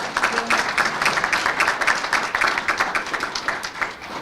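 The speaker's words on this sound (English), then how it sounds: "Can we give Joan Bass a round of applause?" Audience applause at a legislative veterans expo, honoring Joan Bass: a steady wash of many hands clapping throughout, moderately loud and fairly close, with no break.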